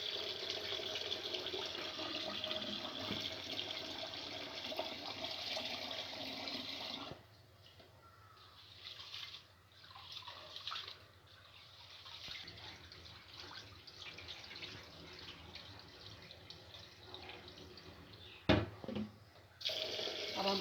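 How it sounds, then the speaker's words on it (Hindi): Water streams from a tap over rice in a vessel to soak it, a steady rushing pour for several seconds, then quieter trickling and handling noises with a sharp knock near the end. "अब हम पानी डाल के इसको भिगो देंगे चावलों को"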